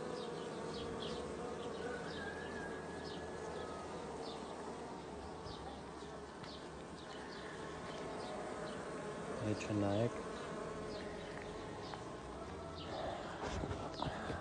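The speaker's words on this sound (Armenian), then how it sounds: "այս տարի չգիտեմ խի շատ ուժեղ են իմ մեղուները" Strong, dense buzzing from a hive of one-year-old F1 Carniolan honeybees fills the whole stretch, close and continuous, with a person speaking briefly over it.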